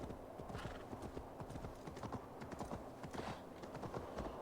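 Rapid clip-clop of horse hooves galloping steadily in Assassin's Creed Valhalla, a close, continuous drumming rhythm with a brief whinny-like sound mixed in.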